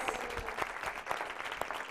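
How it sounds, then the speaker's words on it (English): A group applauds itself during an interactive workshop session: a steady, fairly soft wash of many hands clapping for about two seconds, with scattered sharper claps standing out. "And give yourselves a round of applause."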